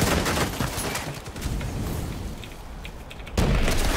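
Pistol shots in a video game come as a rapid, continuous volley of close, loud gunfire. A heavier burst hits near the end.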